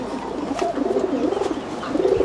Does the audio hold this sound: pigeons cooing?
yes